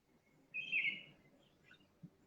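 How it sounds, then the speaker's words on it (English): Birds chirp faintly in the distance around a person on a call, with one short, high twittering phrase and a soft trailing note, then near quiet. "I could briefly hear the chirping of the birds around you"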